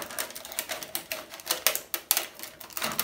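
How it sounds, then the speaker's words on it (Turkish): Scissors snip through a dried gelatin decoration sheet in a kitchen, a quick rhythmic series of crisp, crackly cuts, close and fairly quiet. "Gördüğünüz makasla da çok kolaylıkla kestim zaten."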